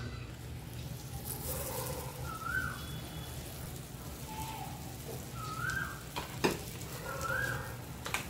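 Chocolate cake batter sizzles in an oiled appe pan on a gas stove, with soft, faint frying crackle and small clinks as spoonfuls go in, plus a few quiet scraping touches.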